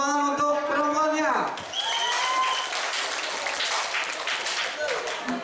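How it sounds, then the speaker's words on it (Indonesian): A school audience at a student orientation event breaks into sustained, fairly dense applause right after a speaker's voice, the clapping continuing steadily to the end. "kita beri tepuk tangan untuk perempuannya."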